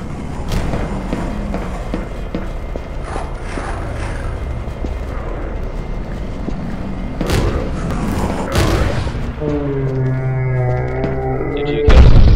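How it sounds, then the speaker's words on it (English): Grenade blasts in the video game E.Y.E. Divine Cybermancy land as a few heavy booming thuds among scattered gunfire and mechanical game sounds, ending in a loud sudden explosion. "I'm just tossing grenades at shit."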